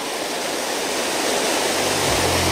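Roaring Victoria Falls waterfall, a dense, steady rush of falling water that fills the whole clip at constant loudness, with a low rumble creeping in near the end.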